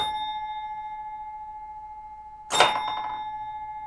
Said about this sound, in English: I hear the knocker hit